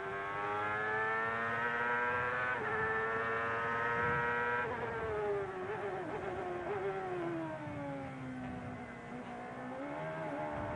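An Indy race car at Laguna Seca during the 2000 Monterey Grand Prix, rear wheels going light over the Corkscrew bump: a loud, close, high-revving engine whine holds steady, drops abruptly, then sweeps down and back up, with no talk.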